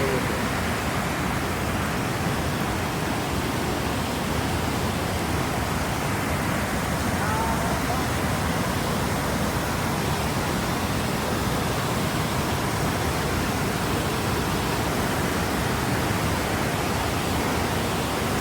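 A rushing hill stream at Shoilopropat waterfall in Bandarban, swollen after a day of rain, roars steadily and loudly from start to finish, a dense, close wall of water noise with no pauses.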